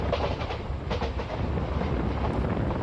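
Sabari Express 17230 rolling along in Train Simulator (Railworks), a steady rumbling wheel-and-track drone with faint rhythmic clatter, continuous and fairly loud with no talking.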